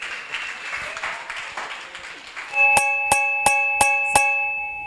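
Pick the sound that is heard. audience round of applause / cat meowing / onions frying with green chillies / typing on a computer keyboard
audience round of applause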